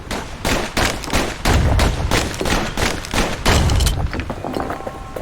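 Dual slinger pistols in Bastion fire a fast, regular volley of loud, sharp shots, some with deeper thumping hits, before tapering off near the end.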